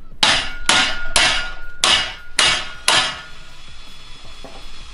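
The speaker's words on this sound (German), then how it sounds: "einen etwas größeren Hammer" Six sharp hammer blows ring out on a metal clamp of a VW T4 Multivan at a steady pace, each leaving a bright metallic ring, followed by quiet clinking and shuffling.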